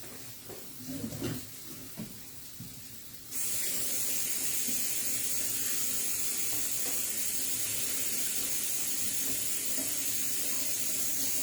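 Water from a kitchen tap runs steadily over a pepper being washed, a loud continuous hiss and splash close by, starting abruptly after a few seconds of quieter handling noises.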